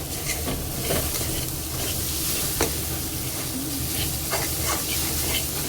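Dry bombil fish chutney masala stirred and fried in a pan, a steady loud sizzle with repeated scraping stir strokes throughout, no talk.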